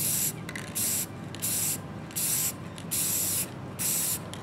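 Short, sweeping bursts of espresso brown spray paint hiss from a can held near model terrain trees, six separate blasts evenly spaced with brief pauses between, loud and close with no talk.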